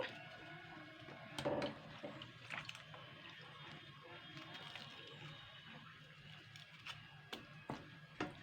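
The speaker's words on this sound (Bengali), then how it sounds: "এগুলোকে আমি আবার একটু আমগুলোকে একটু ধুয়ে নেব।" Mangoes for a sweet-sour-spicy pickle being rinsed under water, a faint steady splash and trickle with a few louder sloshes near the start and end, fairly quiet throughout.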